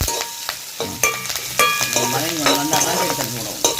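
Beetroot and green chillies sautéing in a pan for Jaffna-style beetroot varai, a close, continuous sizzle punctuated by scraping stirs and taps of a spoon.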